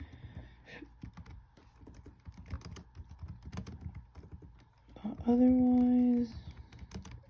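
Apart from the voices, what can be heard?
typing on a computer keyboard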